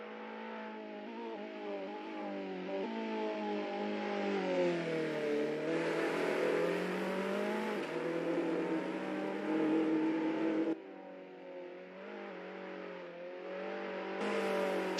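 Race cars accelerating and whirring in the Assetto Corsa racing game at the NZ Superlap league, as one car exits the pits on medium tyres; a steady, continuous engine drone with shifting pitch through gear changes, loud and close throughout.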